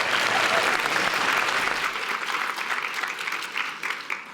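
A full audience at a university speech night competition breaks into dense, continuous applause for the evening's speakers, loud at first and then slowly thinning and fading.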